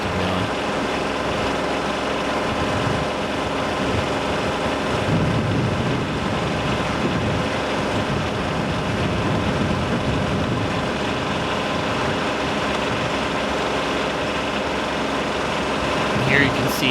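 A Kubota B2601 compact tractor idling nearby, a steady, even engine drone that holds for the whole stretch under someone talking.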